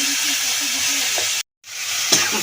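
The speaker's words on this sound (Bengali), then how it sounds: "বন্ধুরা এবার কাঁচা লঙ্কা ধনে পাতাটা দিয়ে দিল কষিয়ে নিচ্ছে" Green chilies and coriander leaves sautéing in a hot pan, giving a steady loud sizzle and hiss that drops out briefly before the frying noise returns.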